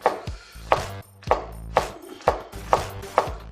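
Vosteed GrandKnife slicing food thinly on a board, a series of about seven crisp, evenly spaced chopping strokes, close and distinct, with no talk.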